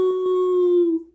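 A voice imitates a dog howling, a single sustained, wavering tone that holds steady and then fades out, alone with no other talk.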